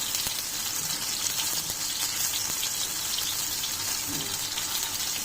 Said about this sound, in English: And fry them on a medium flame, medium to low.